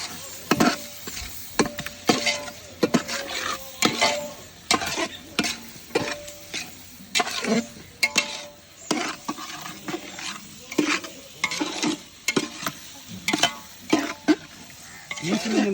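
Chunks of mutton sautéed and stirred in a pot for Kerala-style mutton curry: a steady run of scraping, clattering stirs with soft frying sizzle underneath, close and moderately loud.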